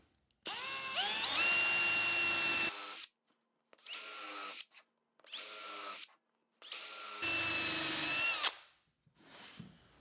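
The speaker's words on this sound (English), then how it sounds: "next I'll pre-drill and countersink holes for the screws" A power drill whirs up and pre-drills countersunk screw holes in wood for an outdoor side table, in four bursts, the first and last long, two short ones between, each separated by brief silence.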